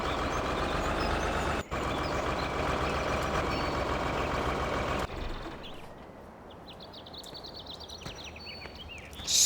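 A truck in Farming Simulator 2013 runs loudly with a steady engine drone that cuts off abruptly, followed by a series of evenly spaced reversing beeps over a quieter background.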